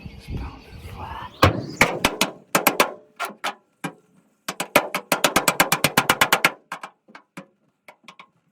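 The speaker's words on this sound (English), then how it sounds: "Let's try and see if I can just pound it flat." A hammer pounding aluminum boat framing flat, sharp metallic strikes in quick irregular bursts, close and loud, with pauses between runs of blows and a short stretch of scraping at the start.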